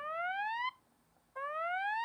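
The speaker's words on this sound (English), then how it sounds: "when this is triggered as well, it will sound an alarm," Galaxy Watch 8 fall detection alarm: two rising electronic sweeps, each lasting under a second, separated by a short pause, clear and moderately loud from a small speaker.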